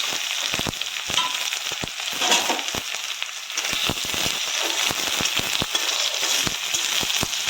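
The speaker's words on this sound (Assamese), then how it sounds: "ইয়াত দিছোঁ অকণমান জিৰা আৰু এতিয়া দিম মই টমেটো আৰু পিঁয়াজখিনি দিছোঁ" Tomatoes and onions fry in hot oil with cumin, a loud, continuous sizzle full of sharp popping crackles throughout.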